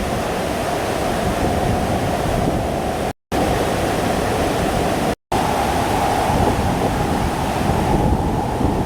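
Strong wind and heavy rain lash a flooded spot by the Ashagad bridge in Dahanu, a steady, loud roar of gusting wind and downpour buffeting the microphone throughout, cut by two brief dropouts.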